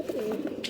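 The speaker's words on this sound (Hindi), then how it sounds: "दोस्तों, ये कबूतर देख रहे हैं ना" A short, soft cooing of pigeons, a low throaty murmur lasting under a second, close by with faint background noise.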